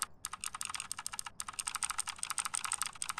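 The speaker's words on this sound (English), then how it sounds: "They added keyboard and mouse sounds." Rapid keyboard typing and mouse clicking as in-game sound effects in Phasmophobia, a dense near stream of crisp key taps with brief pauses, no talk.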